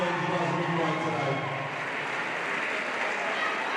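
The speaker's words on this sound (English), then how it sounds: "Why don't you just give us a round of applause for the DC Northeast Blaze and the Melbourne University Lightning fans." A netball crowd at a Championship Division grand final applauds the DC Northeast Blaze and Melbourne University Lightning fans, a steady, dense wash of clapping that carries through the whole moment with a voice faintly underneath.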